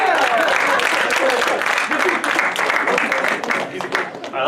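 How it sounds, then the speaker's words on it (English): Banquet applause from a league gathering, a loud, dense burst of many hands clapping that carries on steadily, thinning slightly toward the end, with a few voices mixed in. "let's clap it up for John, guys."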